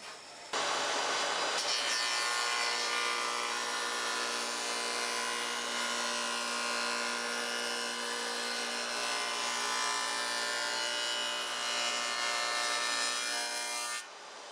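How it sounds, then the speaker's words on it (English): A radial arm saw cuts a tongue into pine board in two quick passes, a loud continuous whining buzz that starts abruptly and holds steady before cutting off at the end. "Two quick passes on the real arm saw is all it takes to cut that tongue."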